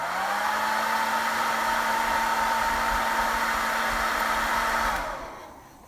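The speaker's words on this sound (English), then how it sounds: "I'm just going to get a little bit of the blow dryer, just because I got a little bit of water on this napkin" A handheld blow dryer runs steadily at close range, drying a wet paper napkin, with a constant whining hum that holds for about five seconds before switching off and winding down.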